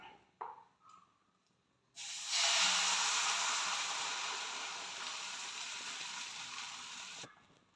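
Kaipola batter poured into a pan of hot ghee sets off a loud, steady sizzling hiss that starts abruptly and holds for about five seconds before cutting off, with a few light clinks beforehand.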